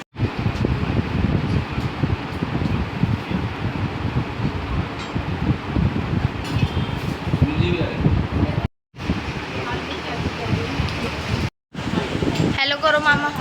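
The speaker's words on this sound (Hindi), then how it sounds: "पंखे की आवाज़ आती है।" A ceiling fan whirs steadily indoors at a family Raksha Bandhan celebration, its airy rushing constant and fairly loud and cut off briefly twice, as people talk over it.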